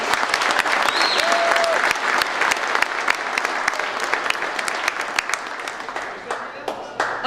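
An audience at a comic pageant applauds a contestant, steady clapping with a few whoops, moderately loud and continuous before thinning out toward the end.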